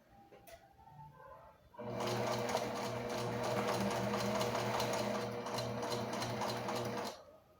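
A sewing machine stitches a classic skirt in one continuous run of rapid, even clatter lasting about five seconds, close and clear, starting and stopping abruptly with quiet before and after.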